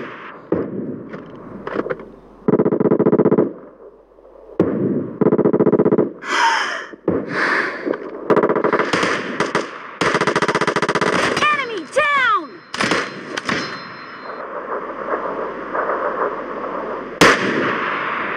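Heavy gunfire in a PUBG Lite team deathmatch: loud automatic bursts and single shots in quick succession, with whooshing effects and a few shouted voices among the shooting.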